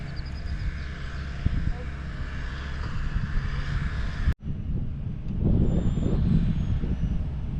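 Wind roars steadily over a drifting fishing boat on open water, a broad continuous rush with a sharp thump midway, followed by heavier, gustier buffeting noise near the microphone.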